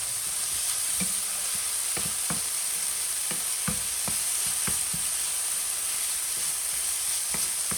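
Minced garlic sizzles steadily in olive oil in a pan, a bright continuous frying hiss punctuated by light clicks and taps from stirring.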